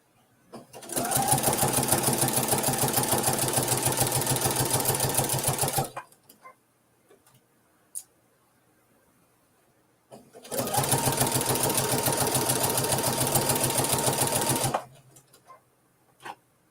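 A compact travel sewing machine stitches a Kimberbell June mini quilt in two long, steady, close bursts of fast whirring, with a quiet pause and a faint click between them.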